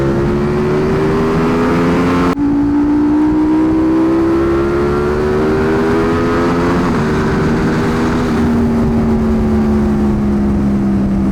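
A 2025 Ducati Panigale V4S engine revs while riding, its pitch climbing steadily through the gears with a sharp shift early on, loud and close over wind noise.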